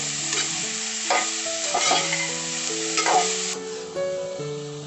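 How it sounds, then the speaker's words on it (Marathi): Vegetables for veg Schezwan fried rice stir-fried quickly in oil over high flame, a loud continuous sizzle with repeated brisk stirring scrapes, heard close beneath steady background music. "थोडा गॅस फास्टच ठेवायचा, आणि मग पटापटा याच्या भाज्या परतवायच्या त्याच्यात तेलामध्ये"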